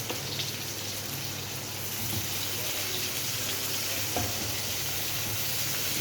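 Whole cloves, green cardamom, cinnamon, black pepper and mace sizzle in hot oil at the start of a chicken polu, making a soft, even hiss that stays quiet and continuous throughout.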